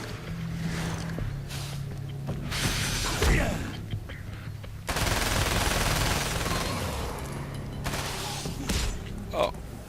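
In the video game Alan Wake's American Nightmare, heavy gunfire comes in long dense volleys with short gaps between them. Scattered clanks and thuds are mixed in, and a voice talks faintly underneath.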